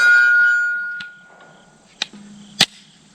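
Fading ring from an earlier hit, then two sharp metallic pings as bullets strike steel silhouette gong targets at an outdoor shooting range, distant and brief, each followed by a short ringing tone.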